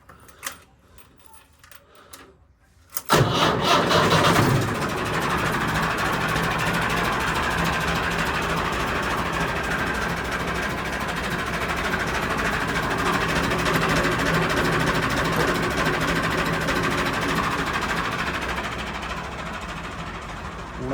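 A tractor engine on a Punjabi farm cranks and catches after a few quiet seconds, then runs at a steady, loud, rattling idle for the rest of the clip.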